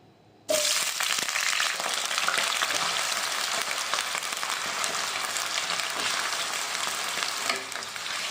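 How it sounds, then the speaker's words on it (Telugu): Cut potato pieces hit hot oil in a pan with a sudden loud crackle, then a steady, dense sizzle that carries on close and unbroken, with no talking. "ఇప్పుడు ఇందులో మనం ఈ కట్ చేసిన బంగాళదుంపలు వేసుకుని ఫ్రై చేసుకోవాలండి"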